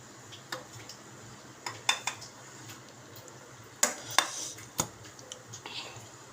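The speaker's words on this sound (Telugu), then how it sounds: "ఇందులోకి రైస్ కలుపుకోవాలి." Cooked rice for egg fried rice is mixed in a pan with chopped garlic. A spatula makes quiet, scattered clinks and ticks against the metal, in irregular bursts with pauses between them.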